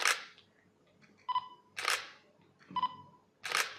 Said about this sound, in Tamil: ஒரு கிளிக் சவுண்ட், ஃபோக்கஸிங் லாக் ஆகிறது, ஒரு ஷட்டர் ரிலீஸ் சவுண்ட், ஃபோட்டோ எடுக்கிறது